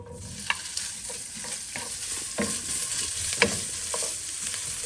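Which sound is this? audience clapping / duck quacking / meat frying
meat frying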